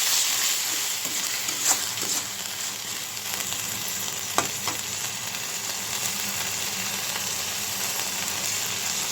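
Onion paste and cumin paste frying in a pan with lightly fried onion, a steady close sizzle with occasional soft stirring scrapes, no talk.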